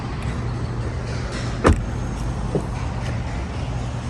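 Power window motors on a Honda Accord G8 (Mugen) hum steadily inside the car, with a short sharp thump around the middle and a softer knock shortly after.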